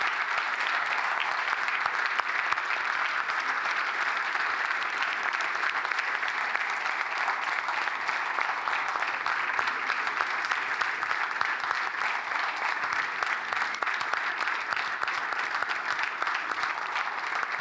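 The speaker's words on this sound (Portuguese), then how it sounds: "vou pedir uma salva de palmas para toda esta equipa fantástica" Sustained audience applause for a performing team at a club day event, a dense, even wash of many hands clapping that holds steady for the whole stretch without a break.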